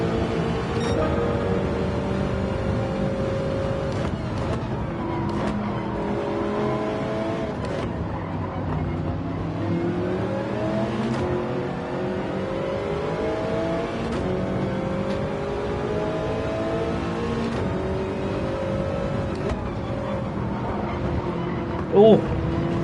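Race car engine in a racing video game, droning and shifting pitch steadily throughout with engine revs rising and falling, mixed under continuous talk, with a brief sharp bump near the end.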